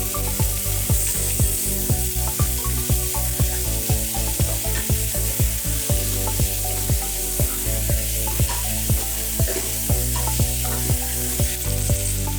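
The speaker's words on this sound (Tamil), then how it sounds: "இஞ்சி பூண்டு விழுதோட பச்சை வாசனை போயிருச்சு இப்போ நம்ம தக்காளி இது 2 தக்காளி போட்டிருக்கேன்" Two tomatoes frying in a pan with ginger garlic paste for a chickpea kurma, a steady loud sizzle broken by regular sharp clanks of a spoon stirring against the pan.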